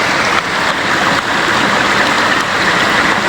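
Creek water rushing steadily around someone wading across a muddy stream after rain, a continuous close broadband wash with no voices.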